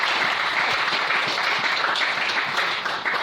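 A church congregation bursts into steady, sustained applause for the Lord, a dense wash of many hands clapping at close range that continues unbroken throughout.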